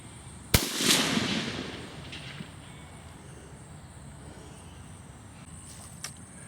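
A tank cannon fires once in a video game, a sharp loud blast followed by a long rolling boom that fades over a couple of seconds, then faint distant battle ambience and a small later crack.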